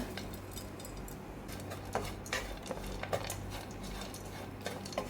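Coconut and crushed cashew nuts roasting in ghee in a pan, with soft steady frying hiss and scattered light clinks and scrapes of a spoon stirring against the metal, no voices.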